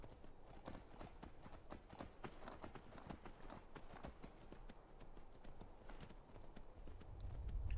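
Rapid, rhythmic clip-clop of horse hooves trotting steadily in the video game Skyrim, close and continuous, with a low rumble building toward the end.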